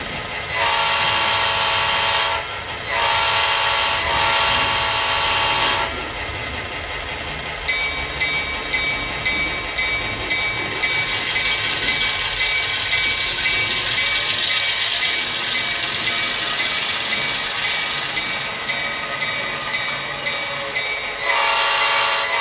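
ESU Select Micro DCC sound decoder in an Atlas MP15DC HO scale model locomotive plays steady diesel engine sound with repeated loud horn blasts, continuous and close, with no talking.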